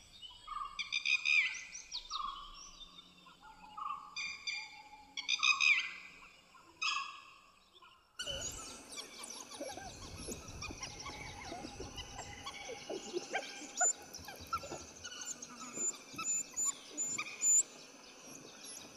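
Dhole, the Indian wild dog, giving its whistling call in forest: a series of short, clear whistles repeated in bursts, followed by a dense, noisier stretch of wild background sound.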